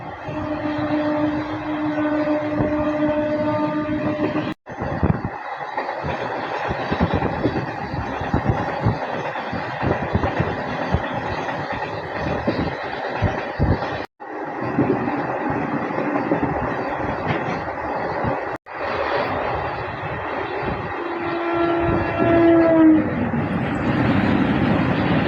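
A MEMU local train from Korba to Raipur on the Gevra Road route runs at speed, its steady loud rolling rumble continuing throughout with a few brief dropouts and some faint horn-like tones near the end.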